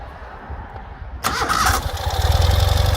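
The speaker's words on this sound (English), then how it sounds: "to wrap things up, let's fire it up for you." Cold start of a 2020 Ural Gear Up sidecar motorcycle that had been sitting for a while: a short starter crank, then the engine catches and settles into a loud, steady, pulsing idle close by.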